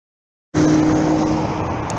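Road traffic on a street at night, a loud, steady whooshing rush of passing cars that starts abruptly and holds, with no voices.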